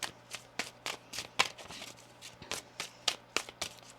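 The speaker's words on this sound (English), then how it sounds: "One more shuffle here." Rapid, crisp riffling of a deck of oracle cards, short papery bursts repeating unevenly, close and fairly quiet.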